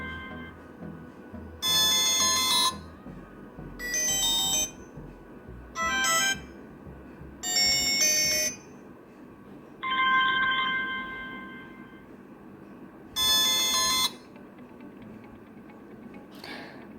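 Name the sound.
smartwatch ringtones playing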